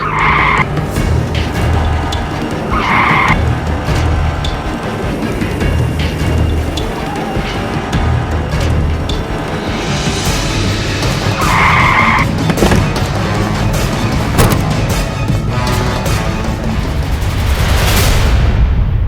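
A car races hard in a Bangla movie action chase, its engine roaring loud and close while the tires repeatedly squeal and skid through the scene.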